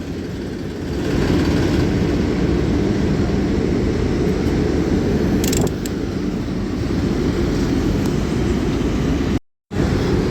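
Steady heavy mechanical rumble and clatter of a chain conveyor running at a sugarcane unloading queue, continuous and loud with broadband grinding, a brief sharper clank midway and a momentary dropout near the end.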